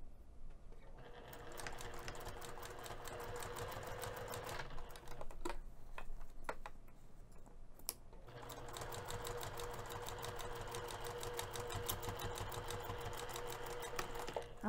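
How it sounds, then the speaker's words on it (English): A sewing machine stitches a small Suffolk coin purse: close, rapid mechanical stitching runs in two long bursts separated by a brief pause, with no voices. "it helps get the project on your sewing machine a little bit more easier"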